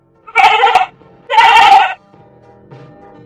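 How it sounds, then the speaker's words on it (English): Two loud, drawn-out sheep bleats, each about half a second long, are separated by a short pause, then a fainter third sound follows. No other sounds or speech are present. "Keep it up. Sheep."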